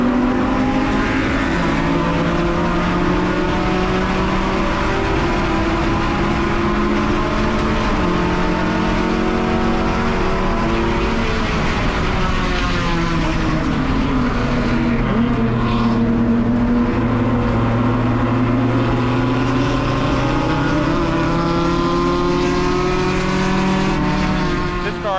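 Race cars, including Porsches, at the 48 Hours at Sebring endurance event, with a loud, continuous engine drone that rises and falls in pitch as cars rev, shift and pass close by.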